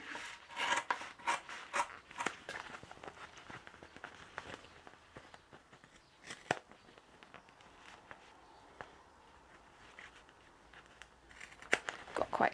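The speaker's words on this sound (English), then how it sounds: "So what we're going to do now is cut the middle out of that." Scissors snip the middle out of a sewing overlay for a tote bag, cutting close to the tape, with a run of crisp, close cuts and rustles of fabric and paper, louder at the start and end, with no talk.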